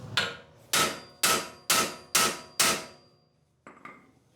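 Six loud, sharp metallic hammer blows strike the upper control arm of a 5th gen Toyota 4Runner at a steady rhythm to knock it loose, followed by a couple of fainter knocks.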